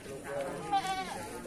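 Goats at a livestock market give a brief, faint bleat over louder nearby talk and background crowd murmur.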